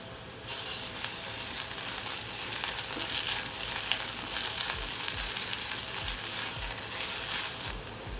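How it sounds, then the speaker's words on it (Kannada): Onions, cashews and ginger-garlic paste fry in hot oil for a hotel-style pulao, a steady loud sizzle that runs without a break, with occasional low knocks and stirring scrapes underneath. "ಈರುಳ್ಳಿ ಎಲ್ಲ ಕಲರ್ ಚೇಂಜ್ ಆಗಲಿ ಅಲ್ಲಿವರೆಗೂ ಫ್ರೈ ಮಾಡ್ಕೊಳ್ಳೋಣ"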